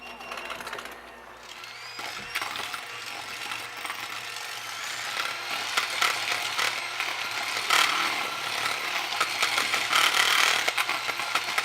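An electric mixer beating white chocolate cherry cookie dough in a bowl, a continuous rattling motor whir with scraping and clatter that grows slightly louder over about twelve seconds.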